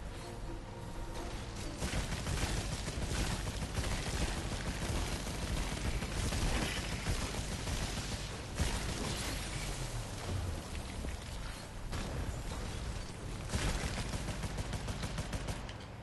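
Rapid gunfire and mechanical weapon sounds from the PlayStation VR game Scavengers Odyssey, bursts of fire repeating steadily over a dense, loud layer of game effects throughout.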